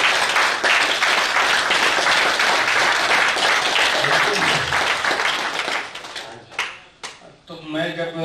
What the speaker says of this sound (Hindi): हमने तालियां भी ढंग से ना बजाई